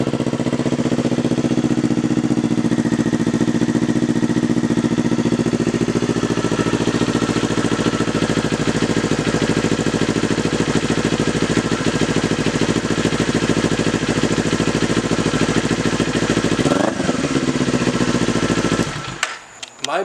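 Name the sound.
Kawasaki Z400 motorcycle idling with $50 Amazon exhaust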